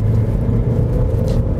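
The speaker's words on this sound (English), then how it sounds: "the car does scrabble just a little bit as you get the power down" A Vauxhall Zafira GSI with front-wheel drive accelerating hard, its engine a steady loud rumble with the front tyres scrabbling slightly for grip, heard alone without talk.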